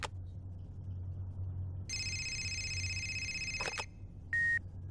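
A telephone in the game Fahrenheit being dialed, a few electronic tones and a short beep sounding close and clean over a low steady hum, with no talk.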